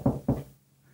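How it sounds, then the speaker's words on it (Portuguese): Two quick, firm knocks on a hotel room door, close and dull, followed by a short silence. "bato na porta"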